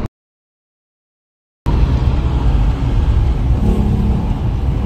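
A BMW M3 E92 driven on the street, the engine roaring in loudly after a moment of silence and holding a strong, steady drone with rising revs.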